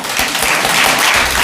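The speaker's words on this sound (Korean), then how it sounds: "박수" A classroom audience claps together in a short, dense burst of applause that stays steady and fairly loud throughout, with no talking over it.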